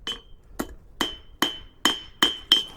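A forged steel cabinet handle leaf is flattened on an anvil with seven sharp, ringing hammer strikes, evenly spaced about half a second apart. Each strike is close, bright and metallic, with a short ring after it in a quiet shop.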